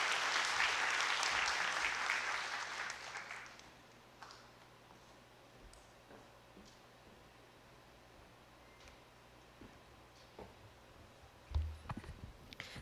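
An audience at the St. Thomas More Lecture applauds a university dean in a short, bright burst of clapping that fades out after about three seconds, leaving a quiet room with faint rustles.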